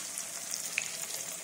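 Phagila gourd frying in a pan for a Konkani GSB fried gourd dish gives a soft, steady hiss and sizzle, close and fairly quiet, with a few small crackles.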